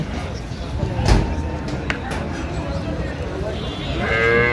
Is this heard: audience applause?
no